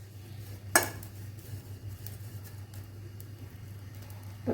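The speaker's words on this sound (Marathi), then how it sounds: "तर मी गॅस बंद करते आणि डिशमध्ये काढून घेते." Roasted dried shrimp scraped out of a hot pan into a dish, heard as a sharp metallic scrape or clink near the start followed by soft faint utensil and pan sounds over a steady low hum.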